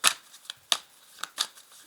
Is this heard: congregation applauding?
no